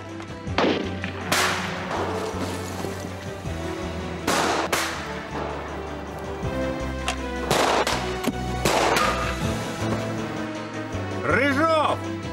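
Gunshots ring out in a Russian melodrama TV series during a police standoff: several sharp, loud shots scattered across the scene, with shouting voices and background score around them.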